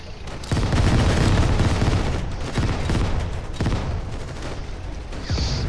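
Dense, rapid gunfire and heavy booms from the World War II video game WWII Online pound continuously at close range, loud bursts layered over a rumbling battlefield din.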